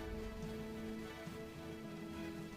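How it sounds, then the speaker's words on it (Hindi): Steady rain falls throughout, a dense, even hiss of drops on surfaces with no pauses, moderately loud and with no voices. "बारिश हो रही है"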